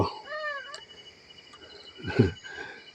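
A cat meows at a Buddhist temple in the hills of Chae Hom, Lampang, giving one short falling meow early on, then a fainter low cry, over a quiet background of insect buzzing.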